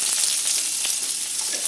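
Onion and garlic fry in hot oil with a steady, close hiss of sizzling that holds evenly through the moment, no voices present.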